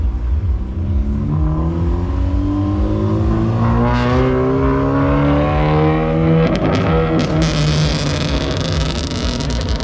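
A car engine revs hard at an outdoor car meet, rising in pitch through repeated throttle blips and sustained high revs, loud and close, with exhaust crackle near the end.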